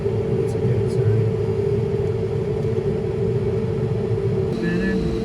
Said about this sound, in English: The auger is slowly turning down in there.